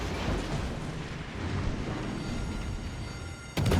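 A warship's guns fire in World of Warships Legends. A heavy rolling rumble builds and then breaks into a sudden loud, booming blast at the very end.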